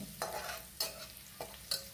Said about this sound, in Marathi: इथे लसणाची राई छान तडतडते बघा